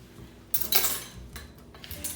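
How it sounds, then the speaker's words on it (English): A knife cuts through a loaf of chocolate bread, giving a couple of short, close scraping and crunching strokes against the board, with quieter handling in between and no talking. "I'm going to try to slice a piece of it"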